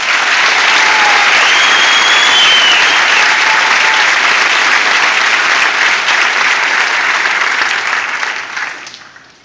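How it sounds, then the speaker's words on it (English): A large audience at a 2013 high school graduation ceremony claps in a loud, dense, sustained round of applause that holds steady for several seconds, then thins and fades out. "Another round of applause."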